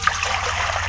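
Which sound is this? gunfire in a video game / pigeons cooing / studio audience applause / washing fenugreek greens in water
washing fenugreek greens in water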